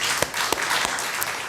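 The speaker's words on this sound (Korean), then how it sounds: "우리 박수로 환영하겠습니다." Church audience applauding to welcome a missionary speaker to a Korean Christian gathering, a full continuous wash of clapping with a few louder individual claps standing out.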